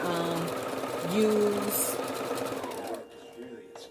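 A sewing machine runs steadily while stitching a fabric hair bonnet, a continuous rapid mechanical whir close by, stopping near the end, with a person talking over it.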